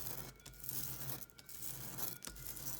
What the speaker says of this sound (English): Can't really tear the paper that well.